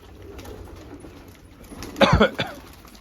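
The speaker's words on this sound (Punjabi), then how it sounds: "ਇੱਧਰ ਪੰਜ ਚਾਰ ਕਬੂਤਰ ਇੱਧਰ ਲੱਗ ਜਾਂਦੇ ਨੇ" Pigeons coo softly in a pigeon coop against a quiet background, followed by a sudden close burst of flapping wings near the end.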